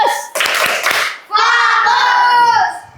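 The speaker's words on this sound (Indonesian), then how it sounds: "Oke, tepuk fokus." A classroom of children performs a rhythmic 'focus clap' on cue: a few sharp group claps in quick succession, then the kids chant together loudly in unison, close and bright.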